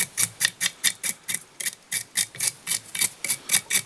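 Dubbing brush scraping fly-tying dubbing on a Banana Opossum Zonker fly, a close, steady series of about fifteen quick bristly rasping strokes at an even rhythm, with no talk.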